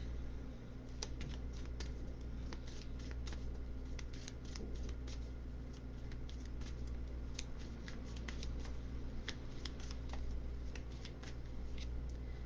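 Tarot cards shuffle steadily and quietly for a long stretch, a continuous patter of crisp riffling clicks.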